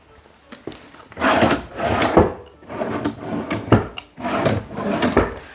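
Small wooden drawers in the armrest of a sofa slide open and shut again and again. The clip holds close wooden rubbing and scraping strokes with several sharp knocks as they close, and no voices.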